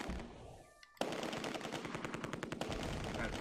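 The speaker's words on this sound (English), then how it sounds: "We're under heavy fire." Heavy gunfire in the Close Combat 2 video game: after a brief lull, rapid machine-gun bursts break out, loud and continuous, with sharp repeated shots through to the end.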